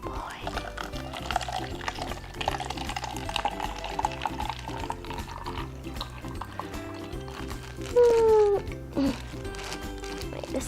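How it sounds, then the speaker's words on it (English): Homemade slushy mix poured out of a bag, a short, close splashing pour about two-thirds of the way through, with a person talking over background music. "Open the bag, and then open the other bag, and then we're going to pour it."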